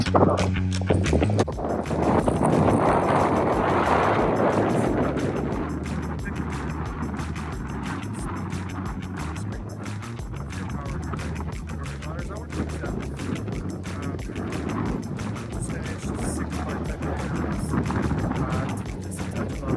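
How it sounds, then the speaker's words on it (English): Strong wind roars and buffets the microphone continuously, a heavy low rumble with gusts swelling throughout, loud and close. "it's extremely windy"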